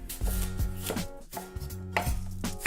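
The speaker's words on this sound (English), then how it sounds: "It calls for 3 cups of apples chopped into bite-sized pieces." Apples being chopped into bite-sized pieces on a cutting board, a run of close knife thuds in an uneven rhythm with no talking.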